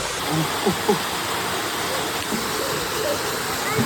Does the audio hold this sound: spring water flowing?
yes